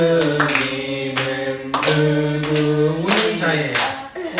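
Congregation at a Wednesday church service claps in time while singing a hymn, sharp regular claps about every half second under loud sustained voices and accompaniment.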